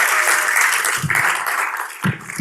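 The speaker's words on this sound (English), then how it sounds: "go ahead and clap" Audience at a city commission meeting applauding, a dense crackle of many hands held steady through the room with a few thumps, lasting a couple of seconds.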